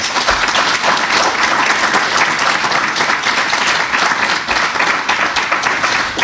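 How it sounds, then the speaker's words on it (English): A room full of people gives presenters a warm round of applause at a community meeting about a proposed City of St. George, loud, close, dense clapping that carries on without a break. "please give them a warm round of applause"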